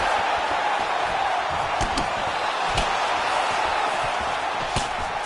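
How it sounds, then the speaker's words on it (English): Fight crowd at a combat sports bout in the second round, a steady dense roar with a few sharp impact spikes as a calf kick lands, loud and continuous throughout. "you can hear the crowd as yet another calf kick lands"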